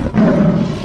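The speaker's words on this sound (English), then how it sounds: "Now let me hear your giant scary roars" A single loud, growling roar of a giant scary dinosaur, sustained for under a second in a children's sing-along setting.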